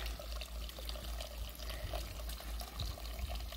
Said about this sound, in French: on se sert du beau petit filet d'eau qui est ici